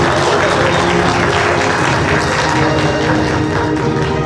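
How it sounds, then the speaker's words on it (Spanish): Loud, dense applause for future healthcare professionals at a hospital-practice blessing ceremony, sustained and even throughout, with a crowd murmur and a steady hum underneath. "Los aplausos para estos futuros profesionales."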